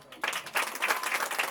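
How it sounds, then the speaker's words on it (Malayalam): An audience at a small function breaks into applause for Maria, a dense burst of many hands clapping that starts abruptly and holds at a steady moderate level. "എത്തിച്ചേർന്നിരിക്കുന്ന എല്ലാവരും കൂടിയിട്ട് നല്ലൊരു കയ്യടി നമ്മുടെ മരിയയ്ക്ക് കൊടുക്കാവൂ."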